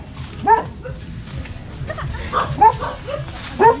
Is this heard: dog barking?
yes